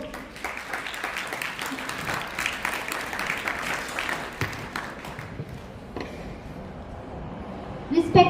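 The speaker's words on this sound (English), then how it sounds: "Welcome them again with a great round of applause." Applause from a school audience at an interhouse competition fills the hall, steady and dense for several seconds under a mix of crowd noise, then thins out and fades with a few scattered claps near the end.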